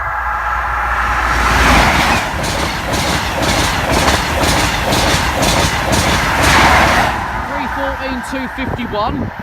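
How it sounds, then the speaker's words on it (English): An HST high speed train from York roars past the Church Lane level crossing, a loud sustained rush with rhythmic wheel clatter throughout, easing slightly near the end. "it's an HST coming in from York"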